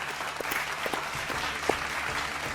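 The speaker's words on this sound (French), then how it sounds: "On applaudit bien fort les développeurs." Applause from a small group, a steady patter of clapping with a few sharper claps standing out, at moderate distance.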